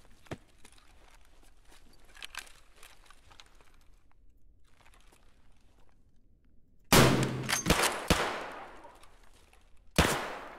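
Gunshots in Escape From Tarkov: after several seconds of quiet faint clicks and footsteps, a loud close rifle burst cracks out with a few rapid shots, then a final sharp shot rings out near the end.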